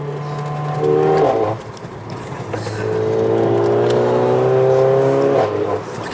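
A 440bhp Mercedes A45 engine pulling hard in 4th gear, a loud rising drone that climbs twice in pitch with a brief dip between, heard from inside the car with no talking.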